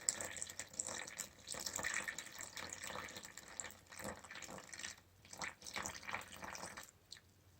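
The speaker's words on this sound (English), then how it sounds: "now I'm just going to add 500 grams of tepid water" Tepid water pours and splashes unevenly into a bowl of wholemeal flour for sourdough, quiet and close, with small drips and pauses between bursts.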